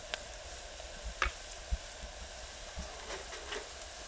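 Spices are tipped into browned onions frying in a pan for a dal vadi curry, giving a steady close sizzle with a few sharp ticks and small pops scattered through.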